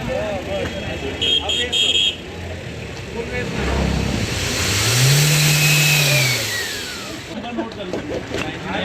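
A vehicle engine revs hard during a roadside pollution emissions check in Chhindwara, the pitch climbing and falling in one long rev over a steady idle, with people talking nearby.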